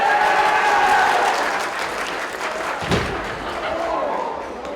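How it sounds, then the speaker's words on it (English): Audience applause at an esports awards ceremony for a high school Rocket League team, a dense burst of clapping from a crowd indoors with a thump partway through, gradually thinning toward the end. "One more round of applause for Hamilton Southeastern High School."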